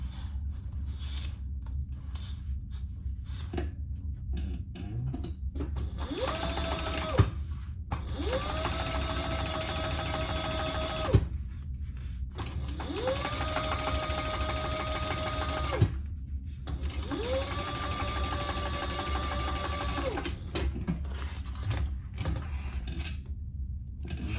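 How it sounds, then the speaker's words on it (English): A sewing machine top stitches along the zipper of a crossbody bag, running in three steady, close whirring stretches separated by brief pauses and a few clicks, over a constant low background hum. "let's top stitch that"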